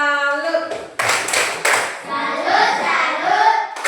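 A school class performs the "tepuk salut" clapping routine, several sharp rhythmic claps from many hands in quick succession, mixed with voices chanting along, close and loud.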